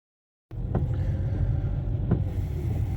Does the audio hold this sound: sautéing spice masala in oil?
no